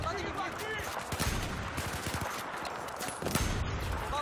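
Sniper gunfire rings out in a video game, with the .338 Recon rifle among the weapons, in a rapid series of sharp cracks and echoing reports at moderate distance.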